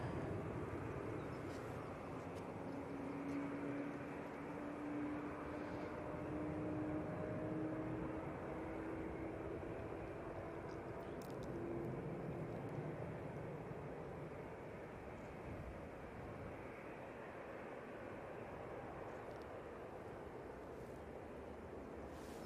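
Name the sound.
Qatar Airways Boeing 787-9 Dreamliner taking off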